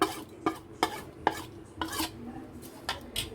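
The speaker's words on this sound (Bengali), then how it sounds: "এখন ভালোভাবে মিশিয়ে নিব এবং একটা পাতলা বেটার তৈরি করে নিব" A spoon stirs a thin batter of flour, dried chilli, white sesame and coriander leaves in a bowl, with about eight clear, rhythmic scraping strokes up close and no voices.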